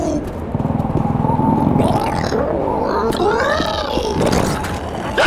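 A Charger special infected in a zombie video game lets out deep, growling roars that rise and fall over several seconds, mixed with dense, noisy game action.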